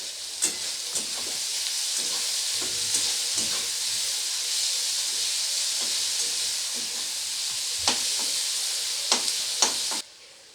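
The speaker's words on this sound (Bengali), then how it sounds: "এবারে পেঁয়াজটাকে খুব ভালো করে লাল লাল করে ভেজে নেব।" Onions with a pinch of salt fry in an oil-filled pan, a steady close sizzle with intermittent clicks and scrapes of a spatula stirring, continuing alone without talk before stopping abruptly near the end.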